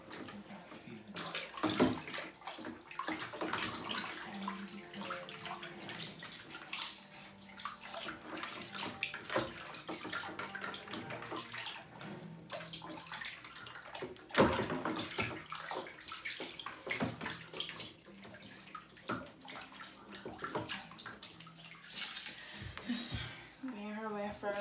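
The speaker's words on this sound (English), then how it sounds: "As y'all can see, bath time." Water splashes and sloshes in a bathtub during a baby's bath time, soft intermittent swishing and dribbling throughout, with people talking over it.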